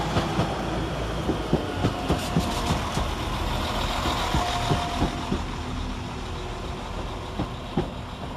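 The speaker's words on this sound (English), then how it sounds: "Next to arrive into the station is 195101 with 1404 Northern service from Blackpool North to York via Bradford" Northern train 195101 arriving at Blackburn station, a diesel unit rumbling steadily with rhythmic clicks of wheels over rail joints, close and continuous throughout.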